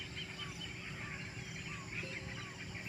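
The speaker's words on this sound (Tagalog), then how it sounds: "Tingnan mo, mayroon mga huni ng mga ibon." Birds on a farm give faint, scattered calls over a steady background hiss, with short chirps repeating through the clip at a distance and no talking.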